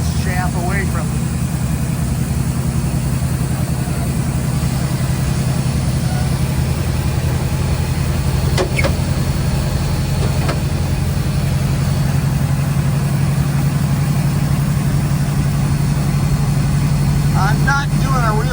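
An old John Deere 45 combine runs in the field with a steady, droning engine hum that holds constant and close, with faint mechanical rattles over it.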